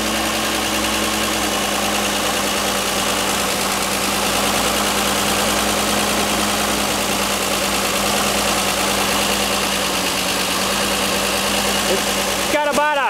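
An International R-185 fire truck engine idles steadily just after its first start, making a continuous, even rumble with a faint knocking throb, followed by a short clatter right at the end.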